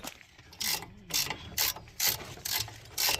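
Ratchet wrench with an E20 socket working a brake nut on a car, giving a steady series of about six close, bright clicking bursts in an even rhythm with no speech.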